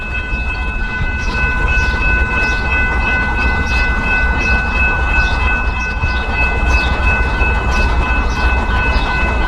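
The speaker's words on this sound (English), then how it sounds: "BNSF Freight, middle track, going east." A BNSF double-stack freight train rolls east along the middle track at a suburban Illinois station, a steady, loud rumble with rhythmic wheel clatter and sustained tonal squeal throughout, close by and continuous with no pauses.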